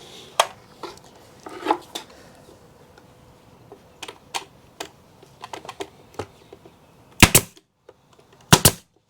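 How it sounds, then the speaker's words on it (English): Nail gun driving nails into wooden boards while building a solar wax melter: sharp, sparse clicks and bangs, with two louder double shots near the end, and no talk. "Take our nail gun and put it on."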